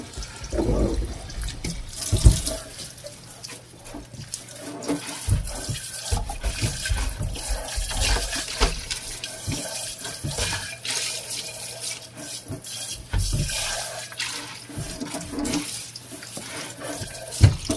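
A tap runs steadily into a sink while tumbled rocks are rinsed under the stream, with splashing, clinks and handling noises throughout, close and fairly loud.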